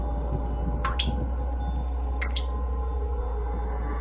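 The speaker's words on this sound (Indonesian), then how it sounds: "Suara keran kamar mandi pun terdengar menetes." A bathroom faucet dripping in a quiet hotel room, two sharp isolated drops about a second apart over a steady low electrical hum.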